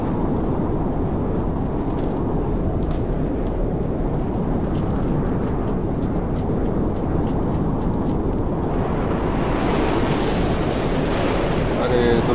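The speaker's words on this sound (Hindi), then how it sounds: "अरे तूफान फिर तेज हो गया" A video game storm: steady roaring wind and rushing surf-like noise fill the whole stretch, with faint clicks scattered through, swelling slightly toward the end.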